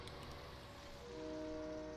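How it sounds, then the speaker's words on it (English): Train horn in the Farming Simulator 19 game, a faint distant sustained tonal blast emerging over low rumbling rail noise near the end. "I just heard the train blow its horn."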